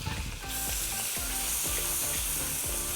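Tomatoes land in a pan of onions spiced with turmeric, red chilli and coriander powder for lauki bharta, setting off a loud steady sizzle with scraping stirs over high heat.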